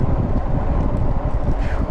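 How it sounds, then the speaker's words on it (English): Strong outdoor wind buffeting the microphone during an e-bike ride, a dense, loud low rumble with no talking. "Man, it's windy."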